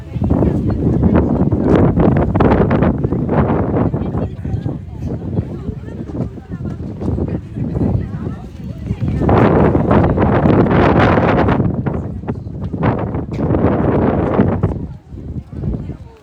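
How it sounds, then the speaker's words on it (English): Gusty wind buffeting the microphone on a seaside coastal walk past outdoor sculptures, loud low rumbling bursts that rise and fall throughout, with people talking intermittently underneath. "It's gonna get windy again because we're getting back next to the coastal walk."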